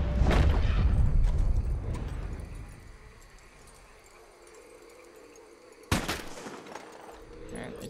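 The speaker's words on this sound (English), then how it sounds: "you have to use the varmint rifle to take this down" A varmint rifle fires in the video game Red Dead Online. A single sharp, fairly loud crack rings out near the end after a quieter outdoor stretch, with a rumble of movement at the start.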